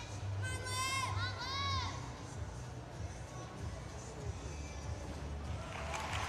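Cheering and shouting from teammates in an arena after a junior gymnast's bar routine, with a crowd murmur running throughout, a brief louder burst of whoops near the start, and a commentator's voice heard over it.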